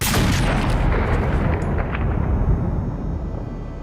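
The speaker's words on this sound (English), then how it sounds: "And then, of course, the gunshot rings out." A single loud gunshot booms at once, followed by a long, rumbling echo that slowly fades.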